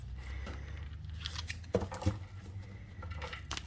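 Tarot cards shuffled by hand at close range, soft papery riffles and taps with a couple of sharper slaps, quiet and brief, no talk.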